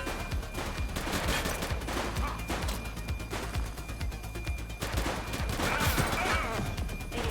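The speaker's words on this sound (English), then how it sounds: "He's shooting!" Rapid gunfire in the police video game The Precinct, dense overlapping shots and bursts filling the whole stretch at constant loud level, with occasional faint voices mixed in.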